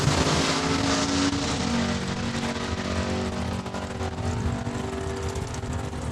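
At a drag strip, race cars including a dragster roar down the track, a loud, sustained engine blast with shifting pitch heard from the trackside, steady and dense throughout.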